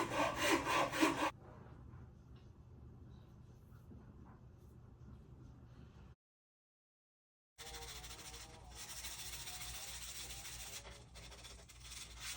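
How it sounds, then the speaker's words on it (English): Hand shaping of a wooden ukulele neck with a rasp or file: a loud burst of rough scraping strokes opens, quieter rubbing follows, then after a short silence a longer stretch of steady rasping strokes. "Filed those down flat, and then I shaped the neck."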